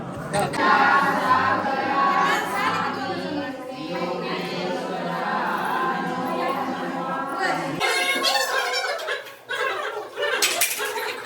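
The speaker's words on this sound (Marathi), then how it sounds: "आता इथं खूप गर्दी." A dense crowd murmurs at the Panchaleshwar temple, a steady busy babble of many voices with scattered clinks and metallic clatter, changing to closer, livelier chatter near the end.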